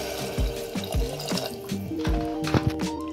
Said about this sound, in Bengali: শেষমেশ দেবো আমরা এর মধ্যে পরের মতো জল